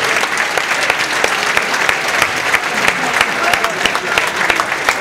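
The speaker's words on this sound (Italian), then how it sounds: "E facciamo un applauso ai nostri ospiti." Audience applause for guests at a public meeting of parliamentarians and mayoral candidates in Novate Milanese, a dense, steady sustained clapping from a sizable crowd throughout.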